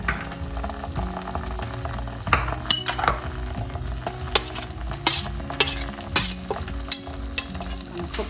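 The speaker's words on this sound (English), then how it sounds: "we are ready to cook our curry ingredients" Curry ingredients fry in a pan with a low sizzle while a metal utensil stirs, producing repeated clinks and scrapes against the pan at an irregular rhythm, close and moderately loud.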